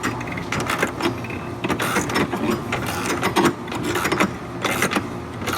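Socket ratchet on a swivel joint and extension working loose the battery hold-down bracket of a Chevrolet Tahoe, a steady run of quick, close metallic clicks with brief pauses and no talking.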